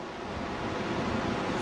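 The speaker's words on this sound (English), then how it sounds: "What I'm looking at is waves traveling in towards the beach" Ocean waves roll in toward a beach through shallow water, producing a continuous broad wash of surf with some wind noise and no voices.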